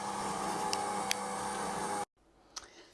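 A machine kneads brioche dough in a Tupperware Ultra Pro 1.8L terrine, giving a steady whirring hum with faint ticks, then stopping abruptly, followed by quieter room sound and a single soft knock.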